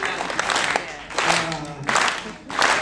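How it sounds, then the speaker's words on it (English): Audience in a venue at the Adelaide Festival Centre giving a slow round of applause, clapping in separate surging bursts roughly every half-second to a second, with voices mixed in between. "A slow round of applause to begin with."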